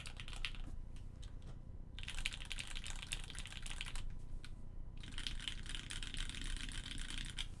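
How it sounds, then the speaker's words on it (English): Typing on a Singa V3 gasket-mount mechanical keyboard, with dense bursts of clacky keystrokes in two long runs separated by short pauses, close and clear with no speech. "Just for reference, I'll give you a bit of a sound typing test of the"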